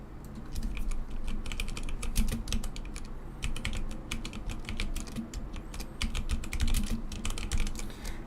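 Rapid typing on a computer keyboard as a stream title is changed, a dense steady patter of close keystrokes over a constant low background hum.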